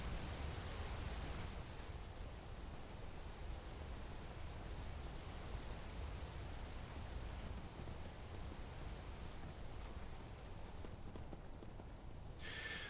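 A Skyrim waterfall pours with a constant broad rushing wash, steady and unbroken from start to finish at a low, distant level, with no voices over it.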